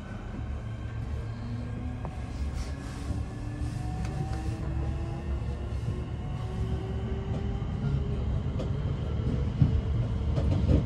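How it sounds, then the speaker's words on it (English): A train rumbles into Waterloo East station in London steadily, its low mechanical drone and faint rising whine growing slightly louder as it approaches, with no talking. "Another train coming in."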